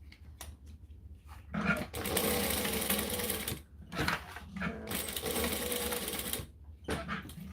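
A sewing machine stitches in several bursts of rapid mechanical whirring, separated by short pauses, heard close and fairly loud while the operator sews a join on an order.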